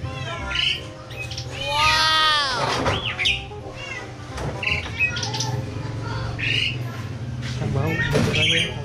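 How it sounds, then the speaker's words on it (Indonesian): A cat meowing repeatedly at close range, several drawn-out rising and falling cries over steady background noise and voices, heard while people prepare and paint a metre-tall Ondel-ondel Betawi mask in a workshop. "Ada kucing."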